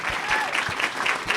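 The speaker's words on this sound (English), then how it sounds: "let's go ahead and give a round of applause for our panelists" Audience applause for the panelists at an artist forum on graphic design, a dense, continuous wash of clapping from a crowd, fairly loud and steady throughout the short burst.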